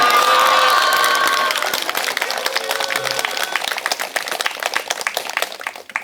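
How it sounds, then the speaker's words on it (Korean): Catholic Mass congregation clapping in thanks to the Virgin Mary, loud dense applause with some cheering that thins and grows more scattered toward the end. "성모님 사랑합니다 하고 박수 쳐봅시다"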